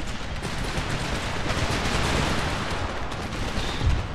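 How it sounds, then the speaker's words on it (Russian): Musket gunfire in an Empire: Total War battle, a dense ragged crackle of volleys sustained throughout at moderate level. "Ну, эти тоже тут ведут стрельбу."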